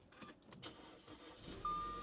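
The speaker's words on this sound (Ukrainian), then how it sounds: "Все, машинка у нас завелась." An Audi A4 bought at a Copart auction, with a battery terminal previously taped over, is cranked and fires up, with a few bursts of starter effort before the engine catches and settles into a steady idle. A chime sounds as it runs.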